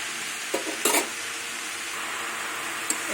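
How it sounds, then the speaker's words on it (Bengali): Flat beans, potato and onion leaves stir-frying in a pan, a constant soft sizzle with a few brief scraping stirs of a utensil against the pan. "আর ঢাকবো না এইভাবেই আমি ভেজে নেব কিছুক্ষণ"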